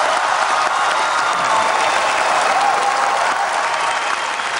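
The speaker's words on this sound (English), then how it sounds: "Global climate deal adopted to the standing applause and whistles of delegates from almost 200 nations" Delegates from nearly 200 nations at a climate summit give a standing ovation, loud sustained applause filling the hall throughout, with occasional whistles mixed into the clapping.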